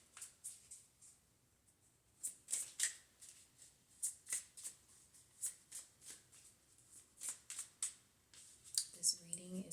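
Tarot cards are shuffled by hand in a quiet room, giving soft repeated riffling and flicking bursts in an uneven rhythm, close and fairly faint, with a voice speaking at the very end.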